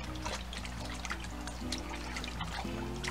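Water runs steadily into a sink while hog maws are washed in a salt and vinegar mixture, giving a continuous splashing trickle with small clatters and knocks from handling.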